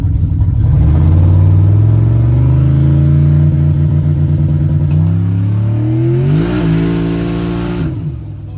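A Chevrolet Trailblazer SS engine revs hard up close, a loud, deep roar that climbs steadily in pitch, then surges once more before easing off near the end.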